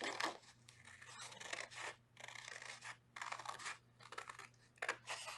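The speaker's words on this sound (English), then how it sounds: "I'm going to cut out my clouds now." Scissors snipping through paper to cut out cloud shapes for an Easter art project, a run of close, crisp cuts in uneven bursts with short pauses, over a faint steady hum and no talk.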